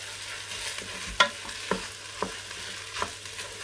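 Ham and rice stir fry being stirred in a Ninja Foodi, with a few distinct scraping knocks of the utensil against the pot over a quiet, low sizzle.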